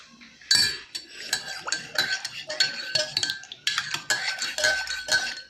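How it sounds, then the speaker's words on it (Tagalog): A metal spoon clinks and scrapes repeatedly against a cup while stirring coffee with Coffee-mate creamer, close and clear, with bright rhythmic taps throughout. "Haluin ko ulit."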